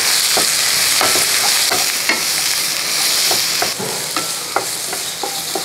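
Capsicum and beans stir-fried for restaurant-style noodles, a loud steady hiss of hot oil with sharp clinks and scrapes from a ladle tossing the vegetables at uneven intervals, close and without speech.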